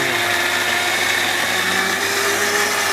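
A Panasonic 2000-watt blender running continuously, a loud steady motor whine with a constant high-pitched buzz, close up and alone.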